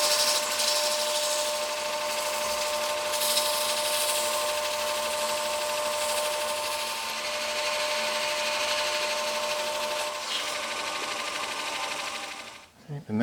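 Steady rubbing of fine 800 grit sandpaper against a resin ring, a continuous close hiss with even strokes running throughout before stopping near the end.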